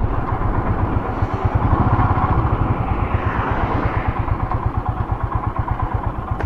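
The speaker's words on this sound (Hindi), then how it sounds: "गाड़ी खींच नहीं रही है शुक्र है चढ़ाव चढ़ रही है मगर पिकअप नहीं है गाड़ी में" A Royal Enfield Himalayan motorcycle engine labours uphill on a Ladakh mountain road in heavy rain, its single-cylinder thump pulsing loud and close in a steady, slightly uneven rhythm with a low rumble beneath.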